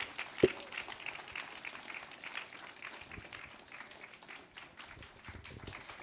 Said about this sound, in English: Can we please sustain the applause until he takes his seat?